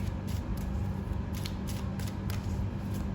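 Tarot cards are shuffled and drawn in a quick run of crisp riffles and flicks, close and fairly loud, with no voice.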